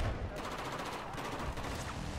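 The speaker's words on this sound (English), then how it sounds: "I'm taking fire also, but I'm just moving in" Rapid automatic gunfire in the video game Battlefield 4, a dense burst of repeated shots in quick rhythm, moderately loud and continuous across the moment.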